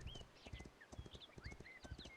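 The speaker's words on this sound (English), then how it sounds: "All right, I hear a horse." Horse hooves clip-clop at a steady walking rhythm in the medieval city-building game Foundation, faint and continuous, with light ambient game sounds layered over the footfalls.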